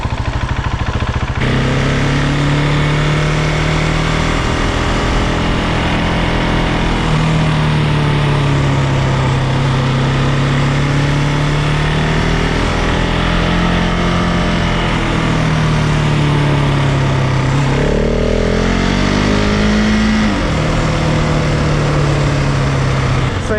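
A 2026 KTM 690 Enduro R single-cylinder motorcycle in off-road mode, chugging at low speed and low rpm in third gear, loud and close with steady lugging and brief throttle swells.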